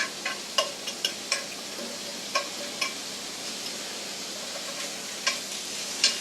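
Tofu cheese bagel sandwiches toast in a frying pan with a soft, steady sizzle, broken by several sharp clicks and scrapes of a utensil against the pan.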